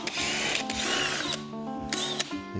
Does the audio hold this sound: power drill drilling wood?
yes